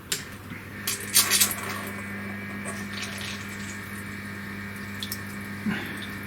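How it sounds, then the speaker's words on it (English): Flood coolant switched on at a CNC metal milling machine, a steady hiss and trickle of liquid over the machine's constant hum, with a few brief clinks and splashes. "we're going to see whether the flood coolant is going in the right place, so we'll turn that on"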